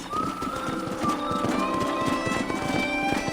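A horse gallops in Red Dead Redemption, a rapid, even clip-clop of hooves over sustained tonal music, steady and fairly loud.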